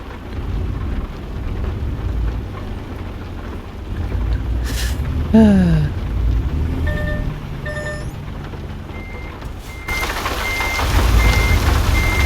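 A truck backing out of a tight parking spot sounds a short run of steady reversing beeps over a constant engine rumble and heavy rain noise, with a low swooping tone partway through.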